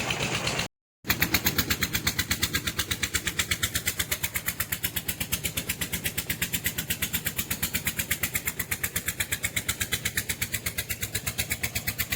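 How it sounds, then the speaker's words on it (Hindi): A tractor fitted with a plough starts after a brief cutout, then settles into a steady, rapid, thumping idle that holds close and even throughout. "हल ट्रैक्टर जो है वो स्टार्ट हो चुका है"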